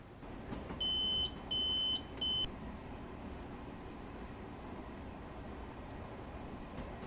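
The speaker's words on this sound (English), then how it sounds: "an alert of a drop in track speed" An LIRR M3 commuter train cab in a train simulator game sounds a track-speed drop alert as three clear, evenly spaced electronic beeps over the continuous low rumble of the moving train.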